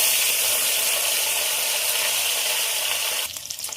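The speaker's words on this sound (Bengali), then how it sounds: "মাছটা এই পিঠটা ভাজার জন্য উঠে দেবো।" Loud, steady sizzle of fish frying in hot oil as pieces are flipped to cook the other side, a broad hiss that drops and roughens briefly near the end.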